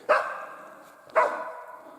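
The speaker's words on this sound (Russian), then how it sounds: "И собака даже рядом." A dog barks twice, close and sharp, with a second of quiet between the barks.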